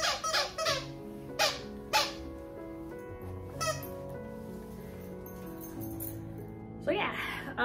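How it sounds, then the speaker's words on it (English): A squeaky toy gives several short, sharp squeaks in quick bursts near the start and again at the end. Music plays underneath throughout. "oh, squeaky toy"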